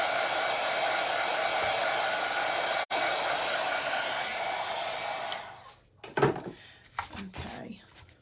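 A hair dryer blows steadily and close to dry paint on an art project, a continuous broadband whoosh that cuts out briefly, then stops, leaving soft handling clatter and faint sounds.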